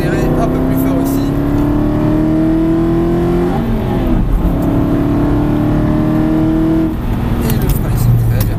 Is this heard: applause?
no